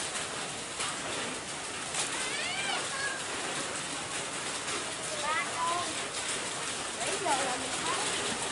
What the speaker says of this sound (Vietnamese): Rồi mưa lớn nữa các bạn ơi.